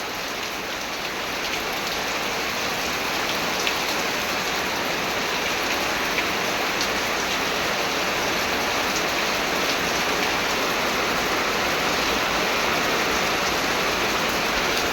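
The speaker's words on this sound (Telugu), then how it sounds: "వర్షం నాతో మస్తు ఆడుకుంటుంది మామూలుగా కాదు ఓ రేంజ్లో ఆడుకుంటుంది" Heavy rain pours down steadily and loudly, a dense, even wash of drops on surfaces that holds at full strength for the whole stretch with no voices.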